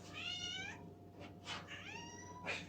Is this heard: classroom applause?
no